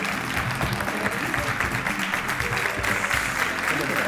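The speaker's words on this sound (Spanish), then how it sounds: "un fuerte aplauso para Diego Peña" An audience claps steadily for comedian Diego Peña at a live show, a full, even wash of applause with voices mixed in underneath.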